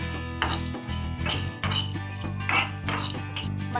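Whole spices including garam masala and white cardamom are stirred and roasted in a pan for a smoky yogurt chicken curry, with close metallic clinks and scrapes of a spoon over a steady background hum.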